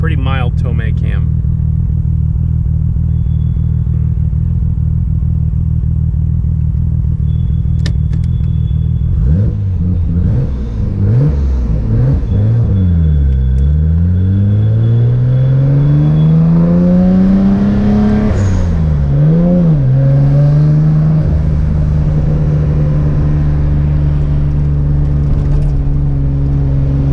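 Nissan R33 GTR engine with mild Tomei cams idling, then revving up and down in loud sweeping pulls and settling back to a steady, slightly lumpy idle, close and continuous.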